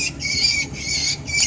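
A small bird caught by a cat squawks in shrill, harsh cries, three loud bursts close to the listener with brief gaps between them.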